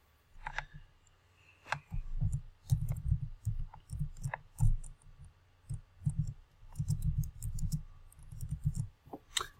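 Computer mouse clicks sound as a scattering of sharp, close little taps, some single and some in quick pairs, over a faint low background rumble.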